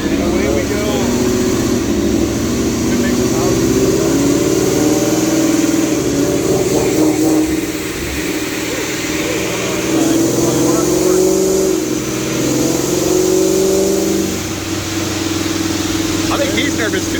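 An ESS supercharged G3 Mustang engine roars loudly and continuously under load on a dyno, holding a high, sustained pitch throughout, with voices faintly under the noise.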